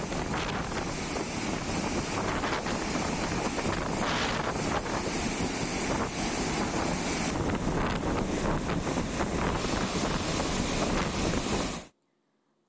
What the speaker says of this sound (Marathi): राधानगरी धरणाचे 4 स्वयंचलित दरवाजे आता उघडण्यात आलेत आणि त्यातनं पाण्याचा विसर्ग सुरू आहे